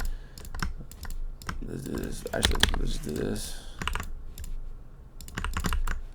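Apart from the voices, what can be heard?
typing on a computer keyboard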